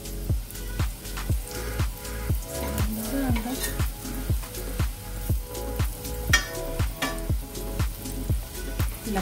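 Eggplant meatballs fry in a pan of hot oil with a loud, steady sizzle. Rhythmic stirring scrapes and bubbling bursts repeat at a regular pace throughout.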